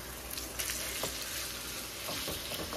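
Four pork chops sizzle steadily in oil in a wide pan as they brown, a dense continuous crackle with scattered spits and pops, close and alone.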